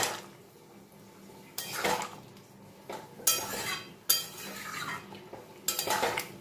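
Spoon scraping and clinking against a pot as curry is stirred after garam masala goes in, a dal-style dish with ool, potato and paneer; intermittent bursts of metallic scraping with quiet gaps between.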